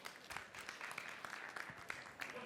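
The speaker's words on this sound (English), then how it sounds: "Round of applause for Andrew, please." An audience applauds, a steady patter of many hands clapping at moderate volume for a couple of seconds.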